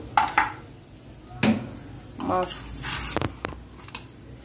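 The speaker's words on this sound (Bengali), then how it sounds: "তো পেঁয়াজটা ভাজা হয়েছে, এখন আমি টমেটোগুলো দিয়ে দিচ্ছি।" Chopped tomatoes dropped into a pan of fried onions, setting off a few loud hissing sizzle bursts with clattering between them, the sizzling fading and flaring over several seconds.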